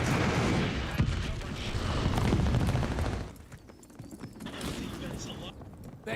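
A glide bomb strike and gunfire in a war video game, with a loud, dense roll of blasts and shots that carries on, then drops to a quieter rumble of scattered fire, heard under game radio chatter.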